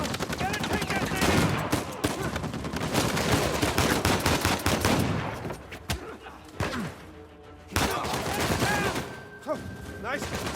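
Turret machine gun in Uncharted 4 firing long, loud, rapid bursts that rattle continuously, dropping away briefly before resuming amid crashing impacts.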